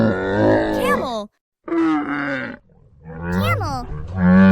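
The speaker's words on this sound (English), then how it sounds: "Camel." A camel gives deep, throaty grunting groans in two drawn-out bursts separated by a short gap, loud and close, alone without talk.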